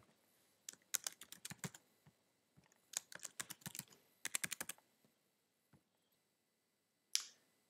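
Login username and password typed on a computer keyboard: three quick bursts of close, crisp key clicks separated by short pauses, followed by a couple of isolated taps and a final sharper click.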